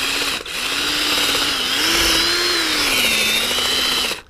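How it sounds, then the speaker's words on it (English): A power drill spins steadily as it bores into a maple tree trunk, giving a continuous high-pitched motor whine that wavers slightly under load for about four seconds before cutting off. "Alright, so I'm gonna start drilling."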